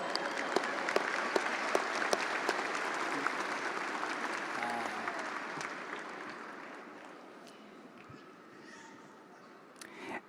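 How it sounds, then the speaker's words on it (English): A round of applause at a high school graduation ceremony for Valencia High School, dense clapping from a large crowd that gradually thins and fades toward the end. "Let's all give her a big round of applause."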